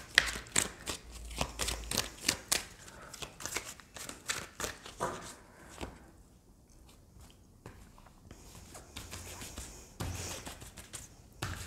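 Tarot cards are shuffled close up in a quick, irregular run of papery flicks and riffles, quieter in the middle stretch and picking up again near the end.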